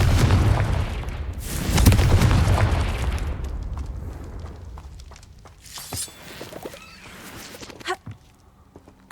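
A Confringo blasting spell explodes in the Hogwarts Legacy video game, a loud, deep boom with a rumbling burst that decays over several seconds, followed by fainter scattered game pops and clicks.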